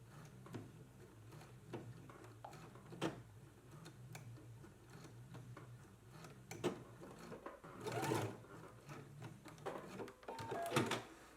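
A home sewing machine runs a diagonal stitch across a sleeve lap on a dress, its quiet ticking needle strokes coming in short bursts with pauses, close by and faint, with no talking.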